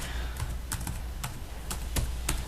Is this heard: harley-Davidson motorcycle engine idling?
no